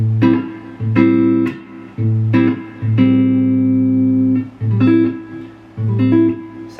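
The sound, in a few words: guitar chord strummed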